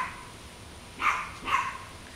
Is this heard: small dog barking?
yes